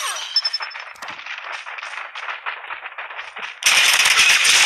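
Rapid gunfire crackles in Call of Duty Mobile, a dense stream of loud automatic shots that cuts into an even harsher, louder burst of firing near the end.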